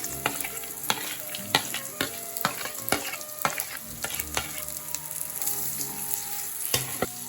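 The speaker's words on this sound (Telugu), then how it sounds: "కరివేపాకు వేసుకొని ప్లస్ వేసి పెట్టుకున్న పల్లీలు కూడా వేసుకోవాలి" Curry leaves and peanuts frying in hot oil for a lemon rice tempering, loud close sizzling with rapid crackles, spatters and frequent stirring clatters against the pan, no voices.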